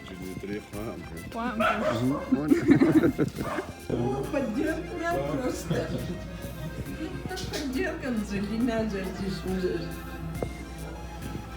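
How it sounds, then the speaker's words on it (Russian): A dog barks and yips in short bursts in a village home in Kabardino-Balkaria, close by and mixed with people talking over it. "Собака."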